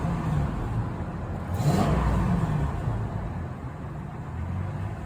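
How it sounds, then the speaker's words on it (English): The V10 Triton engine in a Ford F250, its serpentine belt freshly fixed, idles steadily under a brief throttle blip that swells into a short rev before settling back down. "Let's hit it with a little throttle."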